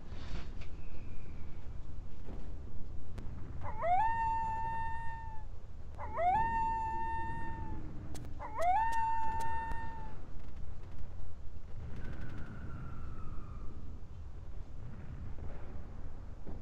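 Dog-like howls from the Final Fantasy 8 video game demo: three rising, sustained wails of about two seconds each, plus fainter long tones, ringing over a steady low background hum with no talk.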